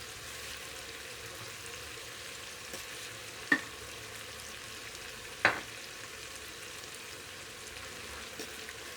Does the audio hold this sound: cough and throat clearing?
no